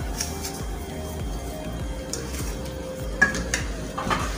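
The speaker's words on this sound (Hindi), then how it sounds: "इसे हमें अच्छे से भूनना है जब तक के इसका कलर चेंज ना हो जाए।" Dry semolina (suji) being roasted in a pan, stirred with a utensil that scrapes and knocks against the metal in steady strokes, with a few sharper clinks near the end and a low background hum.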